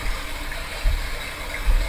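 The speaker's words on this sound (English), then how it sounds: "we are listening to the sounds of the brook" Steady rushing brook water from a sound machine, a continuous broadband wash with a few low rumbling swells, playing alone without speech.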